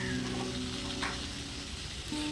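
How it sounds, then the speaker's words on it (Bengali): Vegetables with salt and turmeric sizzle steadily in a pan for a Bengali-style pumpkin-greens chorchori, a close, continuous frying hiss with no talking. "নুন হলুদ দিয়ে বাকি সবজিগুলো খুব ভালোভাবে ভেজে নিতে হবে।"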